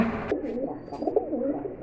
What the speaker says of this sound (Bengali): এই যে এখানে এক জোড়া কবুতর আছে দেখেন খুবই সুন্দর কবুতর